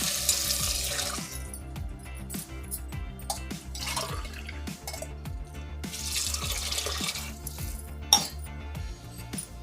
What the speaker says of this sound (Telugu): దీంట్లోనే 2 గ్లాసులు నీళ్ళు పోసుకోవాలా.